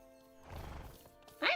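A horse whinnies in the ranch video game Ranch of Rivershine, a rising drawn-out neigh followed by a sharp, brief clatter of hooves at the end, fairly close.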